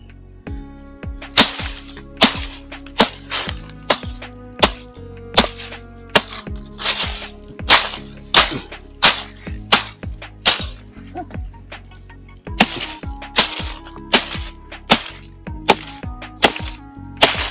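A soft young pest plant stem on a farm is hacked through with repeated sharp chopping strikes, about twenty loud, crisp cracks at an irregular pace, close by.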